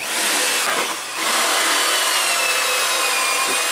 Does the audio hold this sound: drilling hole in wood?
yes